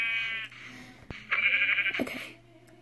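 A sheep bleats in a video game, a wavering nasal cry followed by a second, shorter call over a low background hum.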